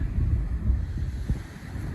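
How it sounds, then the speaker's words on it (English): Gusting wind buffets an outdoor microphone at a New Year's Day fishing match in Norfolk, a low rumbling roar that swells and eases without any talk. "That wind's really sort of gusting"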